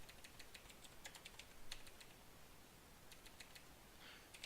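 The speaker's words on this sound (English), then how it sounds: "So I'm going to type Stormtrooper" Rapid clicking of computer keys as a name is typed into a Garry's Mod server setup, in short bursts with brief pauses, quiet and close with no talking.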